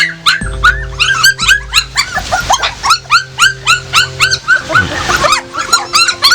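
Puppies whimper and yelp in rapid, high-pitched bursts, close and insistent, with a steady hum underneath.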